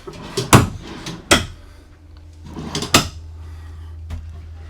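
Several wooden knocks and thuds as small drawers or cabinet doors open and shut inside a 2025 Grand Design Reflection 345RLTS camper, a few sharp bangs spaced irregularly, close by.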